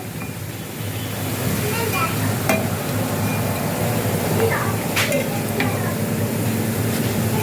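Bottle gourd fritters (bora) frying slowly in oil, a steady dense sizzle with occasional light pops and clinks throughout.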